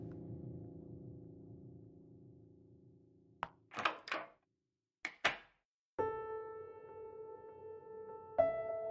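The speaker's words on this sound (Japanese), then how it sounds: "ウサギのバックパックから小さな鍵を取り出した。 目の前のドアの錠と一致したようだ。" A small key unlocking a door in a video game: after a sustained background tone stops, a soft thunk, a pair of brief clicks and a clunk sound, then a steady tone resumes.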